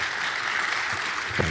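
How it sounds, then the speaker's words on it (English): A round of applause from an audience at a talk, moderately faint, continuous clapping that carries on steadily with little else heard. "big round of applause"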